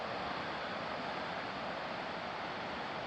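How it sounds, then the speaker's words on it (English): A river flowing near a forest campsite makes a steady, even rush of water that continues unbroken and fairly soft throughout. "You hear the river?"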